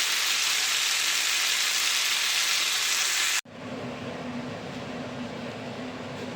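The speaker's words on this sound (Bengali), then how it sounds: "এবার জল ঢেলে দেবো।" Water poured into a pan of spices fried in cumin tempering with tomato gives a loud, steady broadband sizzle that suddenly drops to a lower, bubbling simmer halfway through, with no talking.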